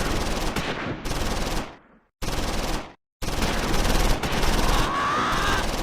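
Sustained machine gun fire from a German Befehlspanzer command tank in the WWII strategy game Close Combat 4, loud dense bursts broken by two brief silent gaps, rattling close by without talk.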